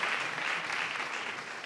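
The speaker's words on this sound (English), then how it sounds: "If you could give everybody a round of applause on there." Audience applause at a mayoral forum, a steady wash of clapping through the whole moment with no voices on top.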